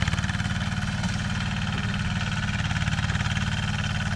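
The engine of a ZT155PLUS walk-behind tractor runs steadily during a dry rotary tilling test, a loud, even, rapidly pulsing idle-like thrum with constant vibration and no talk.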